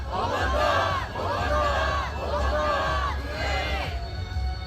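A street march crowd of protesters roars and chants in unison, repeated rising shouted waves close by, loud and continuous with voices blending into one mass.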